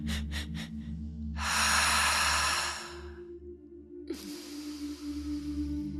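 Several short sharp inhalations lead into a long, loud, forceful exhale, a pause, then another long breathy exhale during a guided breathing session, heard alone without talk.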